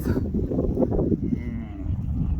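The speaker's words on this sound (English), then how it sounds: "He just mooed at Rona." A young bull calf on a farm lets out one long, low, drawn-out moo that fills the clip and fades toward the end, with no talking over it.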